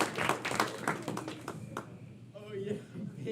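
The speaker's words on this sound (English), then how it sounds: "if you think they should take the angel's advice, give a round of applause" Brief round of audience clapping at an improv comedy show, crisp close claps that thin out after a second and a half as a voice begins talking over the fading room.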